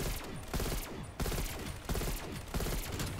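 M16 firing repeated three-round bursts in Cold War Zombies, loud sharp gunfire volleys separated by brief gaps, with no talk.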